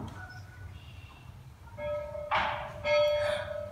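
A bell rings in an old schoolhouse, a sustained electric-sounding ring that starts midway and grows louder in two bursts over a low background hum.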